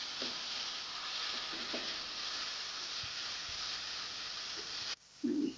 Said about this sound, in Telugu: ఇప్పుడు ఉడికించి పెట్టుకున్న రొయ్యలను కూడా అందులో వేసేసి కొంచెం కలిసేదాకా నెమ్మదిగా తిప్పుకోవాలి.